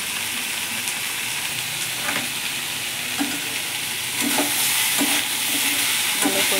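Spices for matar paneer being stirred as they fry in a pan, a steady sizzle with repeated scraping strokes of the spoon against the metal, close and fairly loud, no voices.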